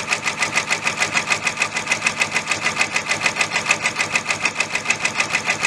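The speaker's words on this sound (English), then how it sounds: "So that's going to sew, and then it's going to sew the bean stitch, and then it's going to be done" A Brother PR655 multi-needle embroidery machine stitches a key fob design, a fast, even, rhythmic pulsing that stays close and steady throughout with no voices.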